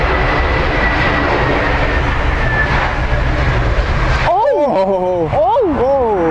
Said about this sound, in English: This Airbus A321neo struggling with high winds while landing at Dublin, almost resulting in a tail strike